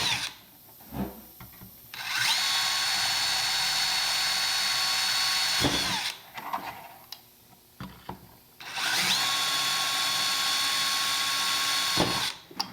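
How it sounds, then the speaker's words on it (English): A power drill fitted with a 5/32 bit bores into material on a Big Buddy heater, two long loud whining bursts with a steady high tone, separated by quiet handling clicks and brief pauses. "This ends up being a 5/32 drill bit."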